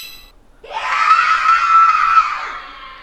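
A synthetic scream effect from a smart speaker's spooky scream skill: after a brief quiet moment, one loud, sustained shriek holds steady for about two seconds and then fades.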